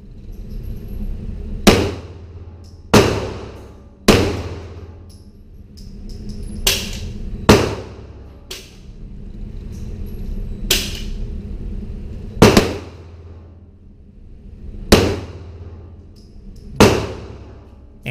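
Pistol shots ring out one at a time during target practice at a shooting range, about nine sharp cracks spaced irregularly a second or two apart, each with a short echoing tail, and no one speaking.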